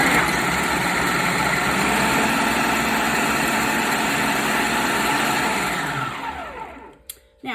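A food processor runs in a steady, loud, close whir as it chops, holding for about six seconds before the motor winds down and stops, with a couple of small clicks after.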